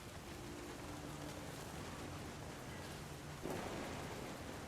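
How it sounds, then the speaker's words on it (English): Rain pours steadily in the storm of the game What Remains of Edith Finch, a constant broad wash of noise with a faint tonal hum, and a soft rumble of thunder swells near the end. "The thunder sounded much too close and full of angry power."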